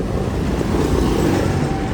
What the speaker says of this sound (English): Oh, we've got a big tractor.